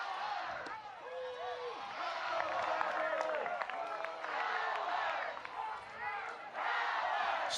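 A Nebraska Huskers college softball crowd cheering after a home run against Oklahoma State, a sustained roar of voices and shouts in a ballpark with a commentator talking over it.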